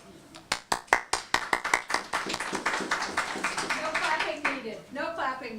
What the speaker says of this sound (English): No clapping needed.